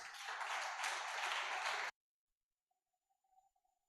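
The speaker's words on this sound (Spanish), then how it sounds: "No sé si pueden dar un aplauso a Dios por esto." A church congregation claps and applauds loudly for about two seconds, then stops abruptly into near silence.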